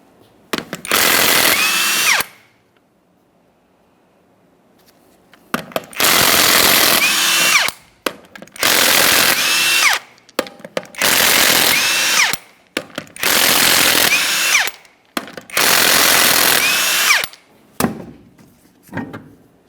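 Impact wrench bursts loosen the 21mm lug nuts on a rear wheel of a 2004-2008 Ford F-150 5.4L V8, six loud, close whirring rattles of about two seconds each separated by brief pauses, with no talking.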